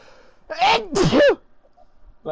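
A human sneeze, a sharp voiced burst repeated as two quick close loud bursts, followed by quiet.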